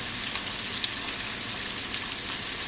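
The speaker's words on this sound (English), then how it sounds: "let them stay in there and fry on high for about 2 minutes without touching them or doing anything to them" Sweet potato fries sizzle steadily in hot oil on high heat, a constant dense crackle with no pauses, fairly quiet and close.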